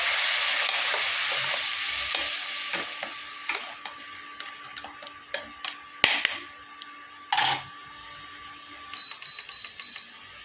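Ground onion paste frying for Chettinad mutton gravy, bright sizzling broken by repeated sharp scraping and clinking strokes of a ladle against the pan, close and fairly loud, with no talk.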